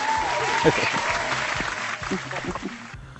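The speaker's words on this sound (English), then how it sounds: "So another applause for that" Applause from a small gathering of people at a drone hobby meetup, a steady wash of clapping lasting about three seconds with bits of voice and a whistle-like tone mixed in, fading near the end.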